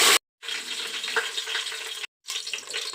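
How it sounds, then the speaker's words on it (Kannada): Bay leaves and curry leaves frying in hot oil and ghee make a close, bright sizzle, broken by two brief silent gaps in a short stretch. "ಎಣ್ಣೆ ತುಪ್ಪ ಕಾದ ಮೇಲೆ ಸ್ವಲ್ಪ ಸಾಸಿವೆ ಎಲ್ಲ ಸಿಡಿದ ಮೇಲೆ ಪಲಾವ್ ಎಲೆ ಹಾಕೋಣ"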